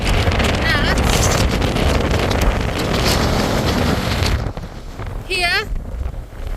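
Strong gale-force wind buffets the microphone at a wild campsite, a loud continuous roar for most of the clip that drops suddenly near the end, where a brief voice is heard.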